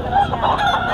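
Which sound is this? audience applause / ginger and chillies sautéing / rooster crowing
rooster crowing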